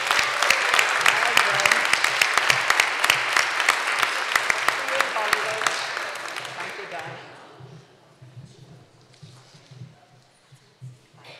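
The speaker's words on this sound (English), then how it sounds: "give yourselves all a big clap" Church congregation applauds performers in a crisp burst of many hands clapping for several seconds, then fading away into quiet room murmur and soft movement.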